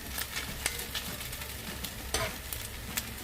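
A mince and red lentil filling is spread and stirred in a pot, giving a close, steady sizzle with soft scraping strokes at irregular intervals, and no talking.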